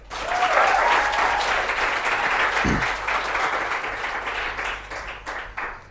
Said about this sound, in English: So ladies and gentlemen, give them a warm applause, Stijn Vermeulen and Thomas de Bekker.